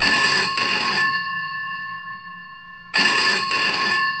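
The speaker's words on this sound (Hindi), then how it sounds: "और तभी कमरे का फोन बजा" A telephone bell rings loudly twice, close by, with a short silent pause between the rings.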